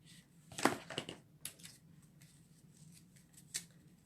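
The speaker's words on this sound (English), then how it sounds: "Just put in snips, and I'm going to just cut the sides like that." Metal snips cut along the sides of an art card, giving a few crisp snipping clicks that cluster early and recur briefly later, quiet and close against a faint room hum.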